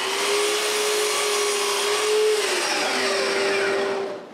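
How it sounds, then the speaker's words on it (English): A CNC router cuts a walnut bottom rail with a loud, steady whine, its high spindle tone holding through the pass and dipping slightly near the end, with no talking. "I go back to the CNC. Now it's perfect. I can cut the bottom rail."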